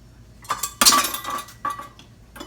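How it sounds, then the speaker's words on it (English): Cooking liquid scooped out of a pot of smothered cabbage with ham hocks, heard as a few metallic clinks and scrapes of a utensil against the pot with bursts of splashing, close up, without talk. "Take some of this liquid out of here."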